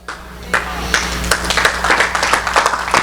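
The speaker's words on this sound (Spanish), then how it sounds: "Muy bien, qué bueno que aplaudieron." A church congregation breaks into applause during a sermon, scattered claps building into a loud, fairly close burst of clapping over a low background hum.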